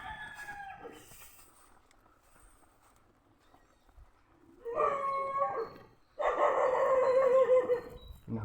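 A dog on a muddy rural trail barks and howls in two loud, drawn-out bursts close by, following a faint, quiet stretch.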